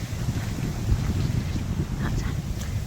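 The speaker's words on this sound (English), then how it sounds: "Oh, it's a gust of wind." Wind buffets the microphone steadily and loudly on the Colonial Knob walkway at Rangituhi, with a continuous low rumble throughout and brief faint rustles near the end.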